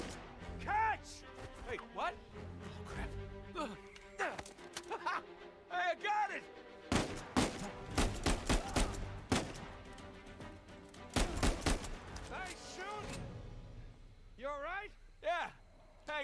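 Gunfire in the action video game Uncharted 4, with bursts of rapid automatic shots and single loud cracks coming in clusters between quieter stretches, mixed with impacts and a voice talking.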